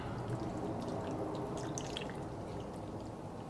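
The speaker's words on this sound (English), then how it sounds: "So we are going to add some water." Water is poured into a dish of rice being cooked as home comfort food, a steady close trickling and splashing that runs unbroken for a few seconds.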